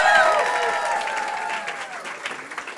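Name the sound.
audience applause at fashion show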